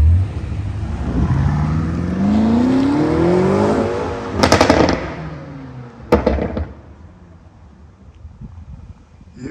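A BMW M5 Competition accelerates hard, its engine climbing through rising revs and shifting up, then clattering bursts and a fading, quieter tail as it pulls away; no talk.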